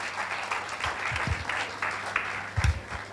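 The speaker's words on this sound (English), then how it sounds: "Can we please have a huge round of applause as she walks in" Audience applause at a TEDx talk during a mentalist's act, a steady crowd clapping wash held throughout at moderate level, with some low thumps mixed in.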